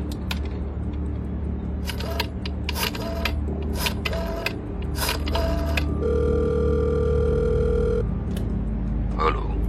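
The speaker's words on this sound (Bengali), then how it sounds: "তুই এক্ষুনি বাসু সাহেবকে ফোন কর।" Telephone sounds in a Bengali detective radio drama: a run of clicking dial or button taps, then a steady ringback tone close up, over a low background hum with no voices.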